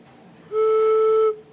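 A stoppered flute pipe from a mechanical organ sounds one steady, pure tone at its proper pitch, held for under a second, clear and alone after a quiet start.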